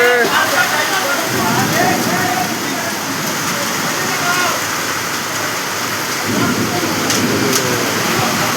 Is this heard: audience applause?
no